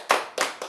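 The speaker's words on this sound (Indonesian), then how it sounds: "Ada amin, tepuk tangan ya." Members of a church congregation clap their hands during a sermon, three sharp, close, evenly spaced claps in quick succession.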